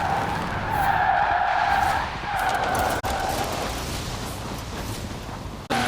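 Citroen DS23 in Forza Horizon 4 skidding with a loud, steady tire screech over engine roar, easing briefly midway and cut by two sharp dropouts.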